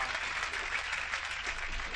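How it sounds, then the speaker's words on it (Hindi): Audience applause after a Hindi comedy poetry recitation, a brief, fairly faint wash of clapping from a crowd. "समाप्त हो गई, तालियां बजा दीजिए।"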